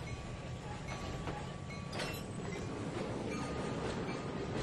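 Train cars being shunted in the Trainz 2019 railway simulator, a steady rumbling roll of wagons with faint wheel clicks and a brief high squeal, heard alone.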